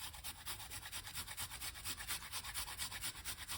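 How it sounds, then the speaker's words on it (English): Fresh ginger scraped back and forth across a grater, a close, quiet, rhythmic rasping with quick regular strokes, alone without voices. "we're going to grate some ginger inside of it"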